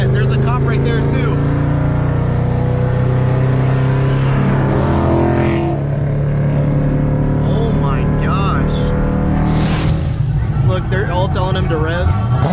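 A street racing car's engine revs loudly and continuously at close range, rising and falling in pitch, while people talk over it at an event sectioned off for racing.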